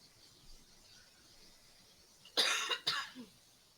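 A single cough followed by a second short burst from a person in a quiet room, near and fairly loud against a faint background hiss.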